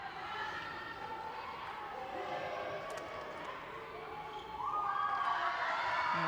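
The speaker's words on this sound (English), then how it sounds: "our crowd there enjoying this display" Schoolchildren in the stands at a Scotland versus New Zealand netball match cheer and shriek in high, wavering voices, rising to a louder burst of squeals near the end, heard at a distance.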